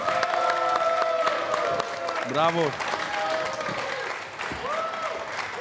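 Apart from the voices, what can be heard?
audience applause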